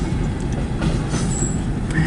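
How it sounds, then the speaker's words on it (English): A long CN freight train rolling past at Port Huron, Michigan, a loud steady rumble of wheels and cars close by with faint squeals above it. "Big train right here"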